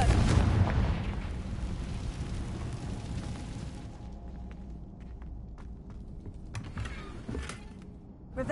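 A Confringo spell explosion in a Harry Potter video game, opening with a loud blast that rolls off into a long fading rumble, followed by scattered small clicks and pops.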